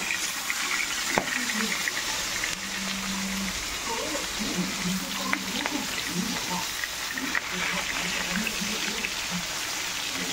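Katla fish frying in oil in a wok, producing a steady close sizzle with occasional clinks and spatters, while a voice speaks over it at intervals.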